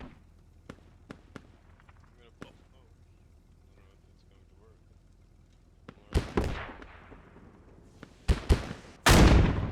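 Gunfire in a video game skirmish: sparse, sharp single shots at first under a commentator's voice, then dense loud bursts of fire near the end.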